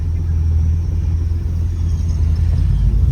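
Engine of a maroon 1961 Rambler convertible with an automatic transmission running steadily underway, a loud, smooth low rumble that holds constant throughout with no voices.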